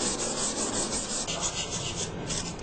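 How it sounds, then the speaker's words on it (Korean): A carved stone inkstone is wet-sanded by hand with waterproof sandpaper while dipped in water, a continuous close gritty rubbing with a steady back-and-forth rhythm and no voices. "벼루를 물에 담궈가면서 물사포로 갈아낸다"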